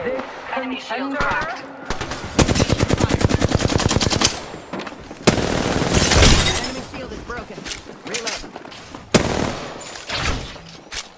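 Rapid automatic gunfire from a video game battle, long rattling bursts and single sharp shots, with breaking and shattering crashes, loud and close, while someone talks over the action.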